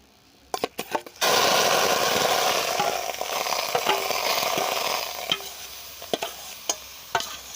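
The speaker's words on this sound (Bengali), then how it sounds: "এবার আমি আমের পাল্পটাকে কড়ার মধ্যে দিয়ে নাড়তে চাড়তে থাকবো।" Mango pulp being stirred in a kadai for village-style aamsatta, with a few sharp scrapes and knocks opening into a steady, loud sizzling hiss that carries on, broken by clicks of the spoon against the pan.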